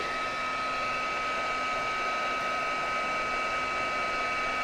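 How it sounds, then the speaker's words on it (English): A heat gun blows a steady, even rush of hot air, close and constant with a faint tonal whine, and no voices. "Heat gun."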